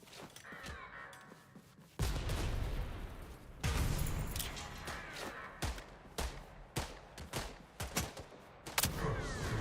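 Grenade explosions in the retro game UFO 50's Grimstone fire off as a burst of sharp, booming blasts, then keep popping in quick uneven bursts, loud and punchy.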